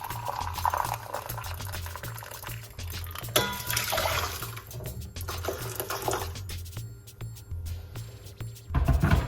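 Hot water pours into a large cup in a home kitchen, a soft burbling trickle of moderate loudness that changes as the cup fills, with a brief clunk near the end.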